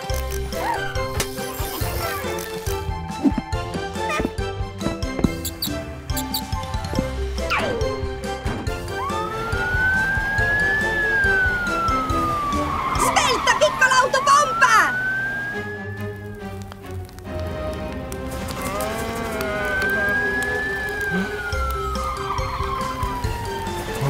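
A cartoon fire engine siren wails in rising and falling sweeps, loud and close, amid music and sound effects, with brief voices nearby.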